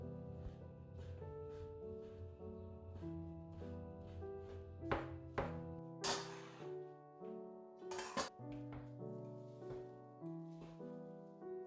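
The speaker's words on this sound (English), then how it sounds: "roll up the sheet into a tight roll and with a sharp knife, slice it finely" A sharp knife slicing through a tightly rolled beancurd sheet into fine strips, with repeated soft taps and thunks on a cutting board beneath steady background music.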